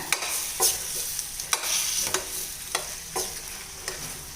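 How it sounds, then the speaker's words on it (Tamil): Baby potatoes frying in roasted ground masala are stirred with a spatula, giving about half a dozen sharp, evenly spaced scrapes over a constant close sizzle. "உருளைக்கிழங்கு சேர்த்துட்டு நல்லா கலந்து விட்டுக்கலாம் இந்த மாதிரி நல்லா மிக்ஸ் பண்ணி விட்டுக்கணுங்க"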